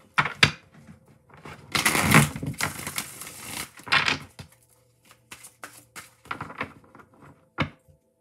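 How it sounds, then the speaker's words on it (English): A tarot deck is shuffled in bursts, with sharp card snaps, a longer riffling flurry and scattered taps separated by brief quiet gaps, close and fairly loud. "Shuffle one more time."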